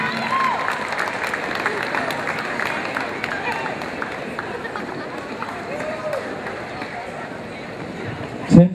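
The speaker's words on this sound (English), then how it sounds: "Let's bring them out, ladies and gentlemen. Give them a round of applause." A ballroom crowd applauds dance couples walking onto the floor at a Masters Open Standard competition semi-final, a broad wash of clapping and cheering that stays steady, with a brief thump at the very end.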